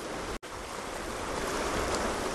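Rough, choppy surf at the rocky Jogashima fishing spot roars in an unbroken wash, interrupted only by a momentary dropout near the start before the steady sea noise resumes.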